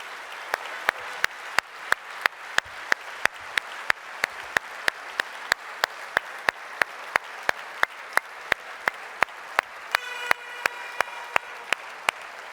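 An audience at a May Day political speech applauds the rescue services with steady, rhythmic clapping in unison, each clap sharp and evenly spaced, sustained for several seconds with no talk over it.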